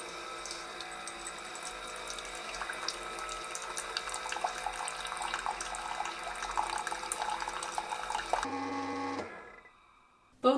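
A Keurig K-Mini Plus coffee maker hums and gurgles steadily as hot water pours out, then the flow cuts off, leaving a brief quiet and a final click.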